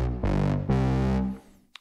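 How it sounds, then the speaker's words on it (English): Deep, harmonically rich bass preset called Baby Reese on the Baby Audio BA1 synth, played as two sustained notes back to back, loud and close, with nobody talking, before fading out. "And we're going to select the preset, a bass. Why don't we go for Baby Reese"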